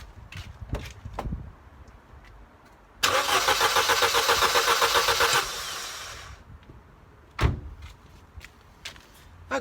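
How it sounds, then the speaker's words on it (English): A Ford Fiesta engine cranks over steadily for about two and a half seconds without catching, a loud, rhythmic whirring churn, with scattered clunks and knocks before and after the attempt. "Okay, that engine's turning over,"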